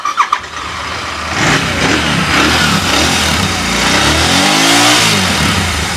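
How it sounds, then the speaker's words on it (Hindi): A Royal Enfield GT 650 with a K&N performance air filter cranks over with a few sharp starter bursts, then catches and settles into a steady, loud twin-cylinder idle with a brief rev near the end. "इसके अंदर साउंड आपको चेकआउट कराता हूँ कैसी आती है स्टार्ट करने के बाद।"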